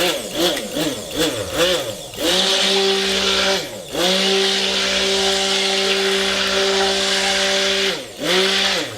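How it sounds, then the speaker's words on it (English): A stick blender whirs in pulses through cold-process soap oils for tangerine soap: a few quick bursts, then two long steady runs separated by brief stops, and a final short burst, loud and close. "Put your blender in, burp it to get out air bubbles, and just pulse."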